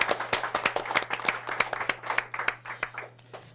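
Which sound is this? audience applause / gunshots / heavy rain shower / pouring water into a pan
audience applause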